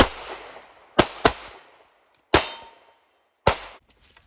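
A Ruger Max 9 pistol fired one-handed lets off four sharp, loud shots at uneven intervals, two close together and then two spaced apart, each with a short ringing decay.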